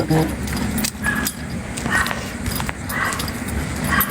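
Dogs outdoors give a few short yips and whimpering whines over a steady noisy background of street sound and faint jingling.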